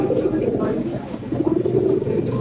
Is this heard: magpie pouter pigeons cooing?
yes